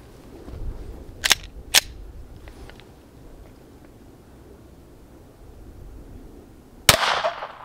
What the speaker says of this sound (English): I'm going to shoot the Glock 17 Gen 4 9mm